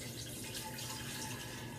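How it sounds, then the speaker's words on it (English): Water kefir starter liquid pours into a bottle in a steady, close, continuous gurgling stream with no talking. "You want to take some of the liquid from the previous ferment and pour it back into your bottle."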